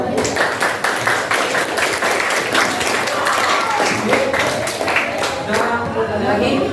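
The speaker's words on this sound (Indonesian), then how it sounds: "tepuk tangan ya" An audience in a classroom-style gathering applauds steadily for several seconds, a dense, even patter of many hands clapping close by, with voices mixed in underneath.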